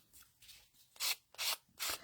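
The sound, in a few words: sanding block rubbing paper tags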